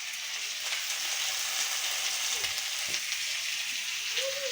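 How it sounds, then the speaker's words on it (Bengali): Pointed gourd and potato curry cooks in a pan at lunchtime, giving a faint, steady sizzle with a few small clinks, low and continuous throughout. "দুপুরে রান্না হচ্ছে, পটল আলুর তরকারি করছে।"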